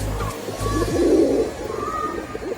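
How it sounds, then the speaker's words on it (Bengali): A female pigeon gives a single low, throaty coo close by over a background hum. "কবুতরটা আলহামদুলিল্লাহ খুবই ভালো মানের একটা কবুতর"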